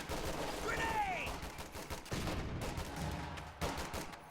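Rapid gunfire and rifle grenade blasts in a tactical shooter video game, dense bursts of shots with a few whistling projectiles early, steady loud volleys throughout with faint voices mixed in.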